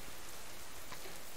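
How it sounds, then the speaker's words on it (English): Steady rain falls in the survival video game Subsistence, a soft, even hiss of drops at a fairly low level with no voices. "And we get rain."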